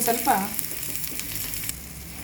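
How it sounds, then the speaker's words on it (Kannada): Vegetables frying for veg Hakka noodles in a hot pan, a steady close sizzle with a brief louder stir near the start, then an even crackling hiss continuing alone. "ಇದು ಸ್ವಲ್ಪ ಚೆನ್ನಾಗಿ ಈ ರೀತಿ ಎಲ್ಲ ವೆಜಿಟೇಬಲ್ಸ್ ಎಲ್ಲ ಫ್ರೈ ಆಗಬೇಕು"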